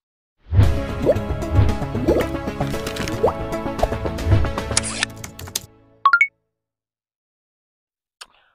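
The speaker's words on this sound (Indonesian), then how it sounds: "saya langsung mau buang juga airnya" Water being drained out at a partial harvest after six weeks, pouring and plopping in a steady splashing stream for several seconds before it cuts off, followed by brief electronic beeps.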